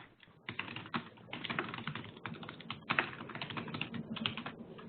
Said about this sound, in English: I hear mad typing